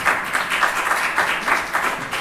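An audience claps at a Leonardo and Telespazio space technology contest as a speaker is welcomed on stage: brief, moderately loud applause in uneven pulses.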